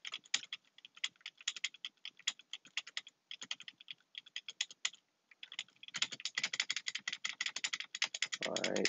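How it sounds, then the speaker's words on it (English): Fast, clicky typing on a computer keyboard runs throughout in dense bursts with a brief pause, fairly quiet and close, with no voices. "sorry for the keyboard noise if you're hearing this"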